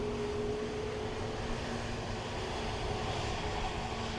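A Ryanair airliner at Dublin Airport produces a steady, fairly distant jet engine drone with a faint sustained tone, heard alone without talk.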